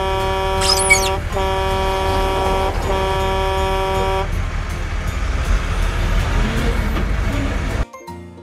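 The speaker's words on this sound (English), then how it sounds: "Blue color transport truck." A blue transport truck in a kids' animated cartoon sounds a steady tonal horn in sustained blasts, followed by a rumbling engine drive that cuts off abruptly near the end.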